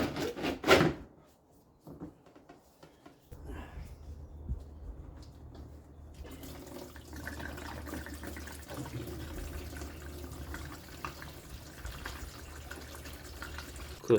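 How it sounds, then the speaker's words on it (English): Coolant drains out of a VW Bora engine in a steady, quiet trickle and splash into a container, preceded by a few knocks and clatters of handling nearby. "So I want to drain the coolant out"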